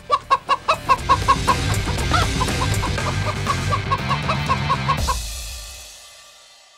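A chicken in a video game clucks in a quick rhythmic series of loud, close clucks that continue steadily before cutting off abruptly, leaving a fading tail of background sound.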